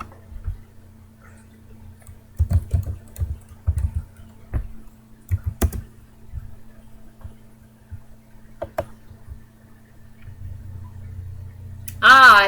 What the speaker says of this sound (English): Let me see if I can type that in.